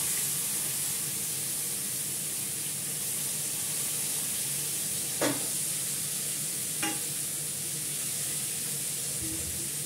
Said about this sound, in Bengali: করলা ভাজাটা করে নিই।